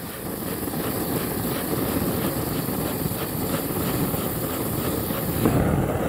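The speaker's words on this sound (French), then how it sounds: "Bouteille de gaz toute neuve, ça fait ça." A brand-new gas bottle roars with a steady, loud, close hiss as it is lit beside a beekeeper's hives, continuing unbroken for several seconds with no talking.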